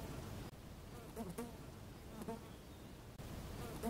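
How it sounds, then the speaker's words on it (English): An insect, presented as an earwig, produces a steady buzzing drone throughout, with faint chirps and clicks over the top and a brief dropout near the start and near the end; no one talks. "this is earwig"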